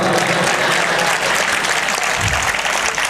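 Loud, dense applause from a large audience welcoming Marathi poet Anant Raut at a live poetry event, steady and sustained throughout with crowd noise mixed in.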